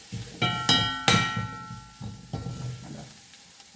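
Okra sizzles in a frying pan as it is stirred, with a few sharp metallic clinks and scrapes of the utensil against the pan over a soft frying hiss.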